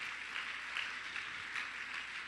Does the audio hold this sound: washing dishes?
no